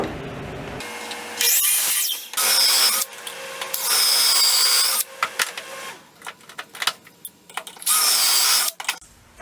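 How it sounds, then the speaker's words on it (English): A board is cut with a power tool while mounting a workshop dust collection system, giving loud bursts of harsh buzzing that start and stop several times with short quiet gaps, close and without talk. "I'll cut the board there."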